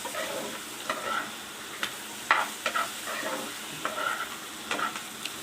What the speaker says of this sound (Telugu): ఇలా వెజిటేబుల్స్ ఫ్రై చేసేసుకోవాలి